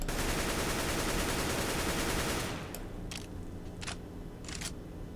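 A dense stream of rapid weapon shots in Counter-Strike: Global Offensive, then a few separate sharp single shots spaced apart, loud and close.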